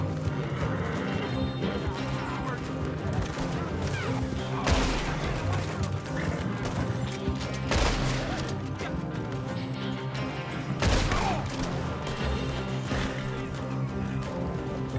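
Gunfire from horseback in Red Dead Redemption 2, with sharp shots cracking at intervals over steady hoofbeats and background game noise, plus faint voices.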